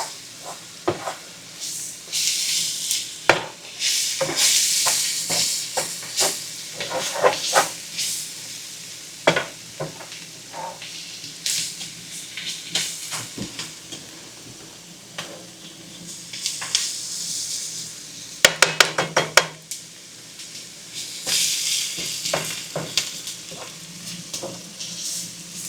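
A steakhouse-style sloppy joe mixture, thickened like gravy, cooks in a pan with a steady close sizzle, broken by occasional stirring scrapes and clinks, with no talk.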